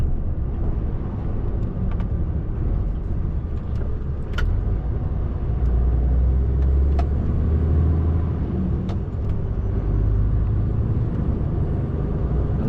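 A car drives along the A548 road, its engine and tyre noise forming a steady, continuous interior rumble with a few faint clicks and knocks, and no talking.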